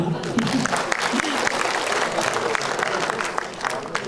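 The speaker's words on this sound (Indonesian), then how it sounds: "Tepuk tangannya mana?" Audience applause at a regional government planning forum in North Sumatra, a roomful of people clapping steadily and fairly loudly, with a faint murmur of voices beneath.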